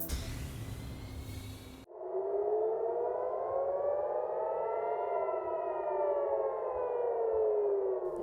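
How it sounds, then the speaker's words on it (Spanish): An air raid siren wails over central Israel, its long tone rising and falling steadily after a brief burst of other noise. It is loud, sustained and heard alone. "Las sirenas antiaéreas sonaron más de lo habitual la madrugada de este miércoles en el centro de Israel"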